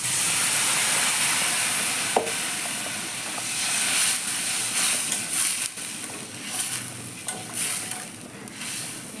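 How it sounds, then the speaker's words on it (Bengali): Hot water poured into a pan of katla fish jhal with turmeric, giving a steady steamy hiss that runs throughout, close and moderately loud, with a few faint clinks and no voices. "এবার আমি দিয়ে দেব গরম জল"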